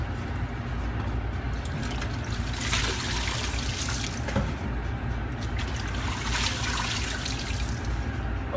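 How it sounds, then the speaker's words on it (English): Water trickles and dribbles steadily out of a salad centrifuge as washed lettuce drains, a continuous close liquid patter with no talk. "you can see the water coming out as it's draining"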